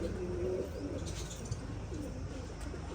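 Soft, low pigeon coos repeat against a constant rumbling background hum, with a few faint chirps higher up; nobody speaks.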